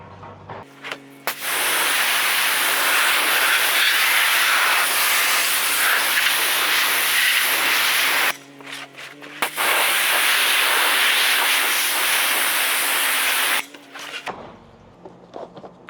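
Pressure-washer spray rinsing freshly scrubbed WeatherTech floor mats, a loud steady hiss that runs for several seconds, breaks briefly, resumes, then cuts off, with no talking over it.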